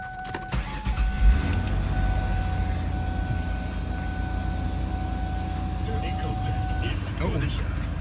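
A car engine cranks and settles into a steady idle, a continuous low rumble with a faint whine running throughout.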